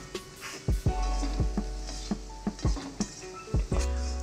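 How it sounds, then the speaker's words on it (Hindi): Cut bread cubes for bread upma are stirred in a hot frying pan, a soft sizzle broken by about a dozen sharp scrapes and taps of the spoon against the pan, close and quiet, with no talk. "अभी हमें इसमें ब्रेड, कटे हुए ब्रेड्स को मिला रहे हैं और इसे हमें धीरे धीरे ऐसे मिक्स कर देना है।"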